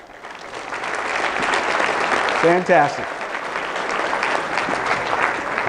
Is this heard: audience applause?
yes